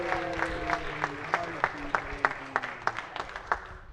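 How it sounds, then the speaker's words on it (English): Sparse, scattered clapping in a state senate chamber for a senator's birthday, a few distinct hand claps ringing out at a fairly even pace against a quiet room with a low hum. "Let's give him a big round of applause and a happy birthday."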